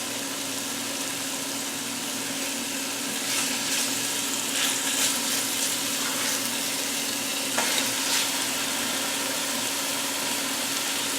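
Pieces of pork tenderloin sear in a pan on a stove at medium heat, giving a steady, close sizzle with a few faint clinks and shifts of the meat.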